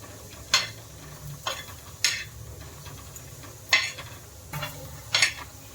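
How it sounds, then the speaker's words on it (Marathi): Grated coconut is dry-roasted in a pan, a spatula scraping and stirring it in about five distinct strokes over a faint, steady background hiss. Quiet and close, with no talking. "खोबरं पण भाजून घेते"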